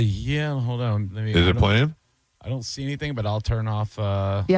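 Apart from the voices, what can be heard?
No everyday noises stand out.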